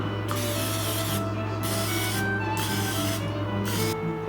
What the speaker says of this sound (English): Let's give these a spray.